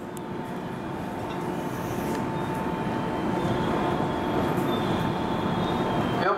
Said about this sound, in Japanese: 到着の電車は回送列車です。